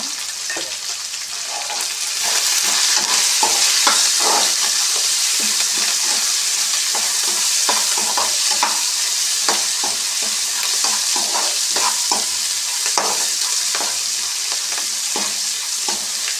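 Onions sizzle steadily in hot oil for a vermicelli upma, with repeated scraping strokes of a spoon stirring them through the pan, close and continuous with no talk.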